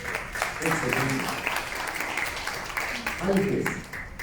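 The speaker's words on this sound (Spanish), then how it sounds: "Un aplauso, por favor." A roomful of people at a housing forum keeps up a steady round of applause, moderately loud and continuous, with a host speaking briefly over it.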